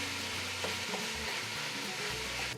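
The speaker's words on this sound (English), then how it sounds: "Now we're going to cook this up a little bit more for like 2 to 3 minutes. So keep stirring it and breaking it up." Ground meat for red chili fries in a pan while being stirred and broken up, a constant soft sizzle with uneven scraping bumps from the utensil, fairly quiet and close.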